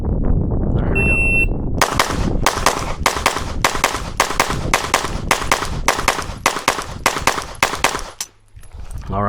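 A Glock 17 Gen 6 pistol fires a fast string of about a dozen sharp, loud, evenly spaced shots on a shooting range, each crack ringing briefly before the next, with a quiet pause near the end.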